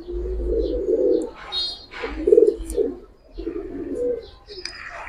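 A silver Afsan Bagha pigeon coos in soft, repeated low throaty bursts close by, with brief pauses between calls and faint background chatter.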